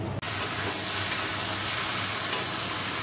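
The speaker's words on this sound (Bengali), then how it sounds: "দেখো তরকারিটা বসিয়ে দিয়েছি, পাঁচফোড়ন শুকনো লঙ্কা ফোড়ন দিয়ে, নুন হলুদ দিয়ে একটু নাড়তে জল ঢেলে দেবো।" Dried red chili and five-spice tempering sizzles loudly in a wok for a vegetable curry, a dense, continuous frying hiss close up with faint stirring and no talk.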